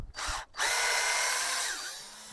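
Power drill fitted with an Aliexpress drill-tap bit, working to back out a stripped screw: a short whine burst, a brief pause, then a sustained loud high-pitched whir that winds down at the end.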